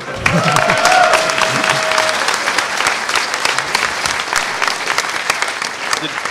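Audience applause at a social engineering panel during a hacker conference, a loud, sustained patter of clapping that runs for several seconds with a voice briefly audible near the start.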